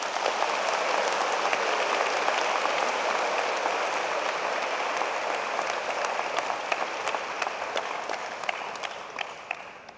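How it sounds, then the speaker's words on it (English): Sustained audience applause fills a graduation-style afternoon scholarship ceremony, dense and even throughout before gradually thinning toward the end. "Everyone, please give her a round of applause."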